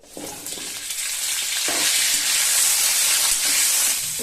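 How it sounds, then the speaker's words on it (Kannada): Drumsticks (moringa pods) fry in cooking oil in a pan, giving a steady, loud, close sizzle that swells after the first second and holds, with no talk over it. "ಇದನ್ನ ನಾನು ತವಕ್ಕೆ ಹಾಕೊಂಡು ಫ್ರೈ ಮಾಡ್ಕೊಂತಾ ಇದ್ದೀನಿ."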